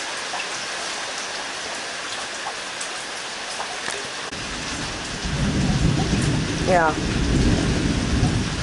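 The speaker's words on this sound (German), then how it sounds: "Gewitter." Thunderstorm with steady rain falling, a constant hiss of raindrops joined midway by a deep rolling rumble of thunder that grows louder and lingers; a person speaks one brief word.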